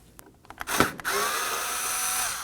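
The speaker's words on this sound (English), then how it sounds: "Using a Phillips head screwdriver, we're going to remove these 4 Phillips screws." Phillips screws come out of the bumper cover on a 2016-2020 Kia Sorento 2.4L: a few sharp clicks, then a close, continuous high driver whine with no voices.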